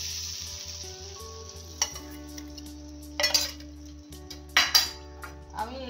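Soaked spice water is poured into a wok of frying pointed gourd (potol), making a steady sizzle with sharp hissing bursts and occasional clinks of a utensil against the pan.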